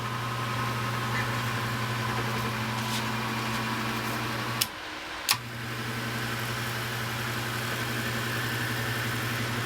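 A power bucket seat conversion motor whirs with a steady, faint electric hum. The hum cuts out briefly with a click and then resumes.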